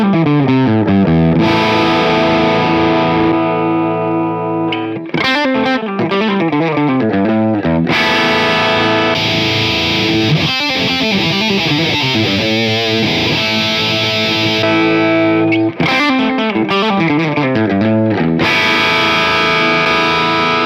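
Les Paul-type electric guitar through a ZOOM G2.1U multi-effects pedal, loud distorted chords and riffs in several bursts with brief pauses between them, close and alone without talk.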